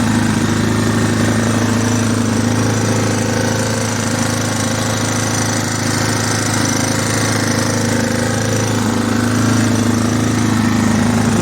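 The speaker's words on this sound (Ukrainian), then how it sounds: "Генератор Ліфан КП 3800" A Lifan KP3800 inverter generator, converted to run on methane (CNG), drones steadily and loudly at a constant idle-like engine pitch, close up and uninterrupted for the whole stretch.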